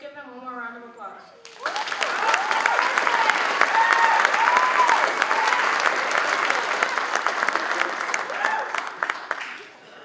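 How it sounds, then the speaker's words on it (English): Audience applause fills a school concert hall after a middle and high school choir song, rising abruptly after a brief spoken intro and holding steady, dense and loud, with scattered cheers, until fading near the end. "Let's give them one more round of applause."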